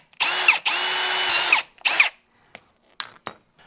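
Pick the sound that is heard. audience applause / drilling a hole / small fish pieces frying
drilling a hole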